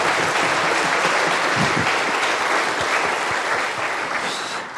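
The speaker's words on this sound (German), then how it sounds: "Also ich finde, das ist auch ein Applaus wert." Audience applause at a conference talk, a broad, continuous clapping from a seated crowd that stays loud and steady before tapering slightly at the end.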